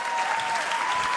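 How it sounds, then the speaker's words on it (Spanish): A crowd applauds for a guest on a Venezuelan-style variety show, steady dense clapping filling the short moment with no break, loud and close. "Un aplauso para Ethan."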